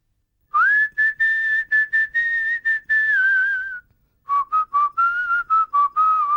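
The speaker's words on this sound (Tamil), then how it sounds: "நான் பாட்டுக்கு விசில் அடிச்சுக்கிட்டே இருக்கிறேன்" A person whistles a bright, lively tune of rapid repeated notes in two phrases with a short pause between, close and loud, with no talking.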